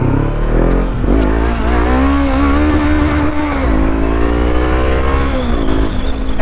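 A Honda CB500X motorcycle engine revs loudly up and down in several sweeping pulls, close by and alone.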